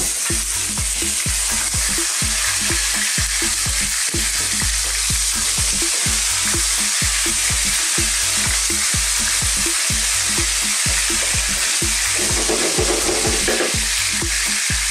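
Beef sizzling and frying in spiced oil in a pan for a beef masala curry, a loud, steady crackle with rapid popping throughout, close and without talk.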